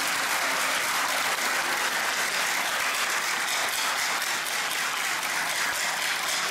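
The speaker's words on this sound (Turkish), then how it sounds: "emekleri için büyük bir alkış istiyorum" Dense, sustained applause from a large crowd at an AK Parti candidate introduction rally in Mardin, a continuous roar of clapping hands with no voices on top.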